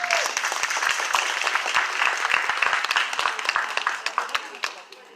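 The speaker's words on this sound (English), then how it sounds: "We get a round of applause for our panelists," Applause from a convention audience for a panel of guests, a dense crowd of clapping filling the room steadily before thinning slightly near the end.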